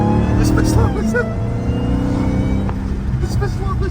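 A Chrysler Hellcat fitted with a loud aftermarket intake revs hard, its engine roar and whine rising and falling up close, with a voice talking over it.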